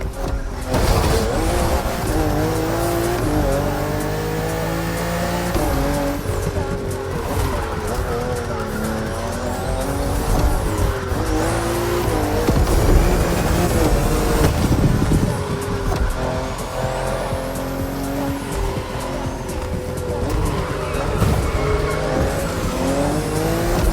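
A BMW M4 CSL is driven hard around a race track, its engine revving and shifting through gears while the tires squeal and skid through corners, loud and close the whole time.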